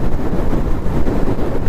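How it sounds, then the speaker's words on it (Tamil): Strong headwind roars across the microphone during a motorcycle ride on the Agra highway, a loud, continuous low rumbling buffet with constant gusty fluctuation; no voices. "காற்று வேற ஓவராக அடிக்குதுங்க."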